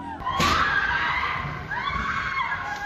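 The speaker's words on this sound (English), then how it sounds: "Screams echo across the ordinary streets of Tehran." Screaming voices ring out along ordinary city streets in Tehran, Iran, with a sharp thud early on, loud and echoing, raised cries rising and falling over a noisy crowd backdrop.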